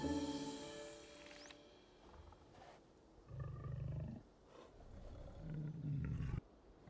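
Cave lion roaring in the video game Prehistoric Kingdom, a few deep, drawn-out roars at moderate volume following a brief higher sound at the start, with no voices.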